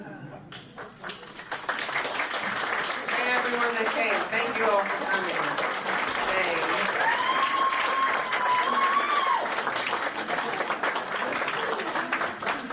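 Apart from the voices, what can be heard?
audience applause at a disability town hall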